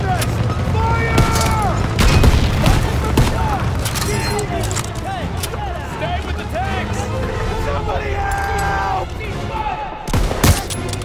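MG-42 machine gun fire in Call of Duty WWII, a dense and steady rattle of automatic fire mixed with booms and battlefield noise, while voices shout over it and a heavy blast lands near the end.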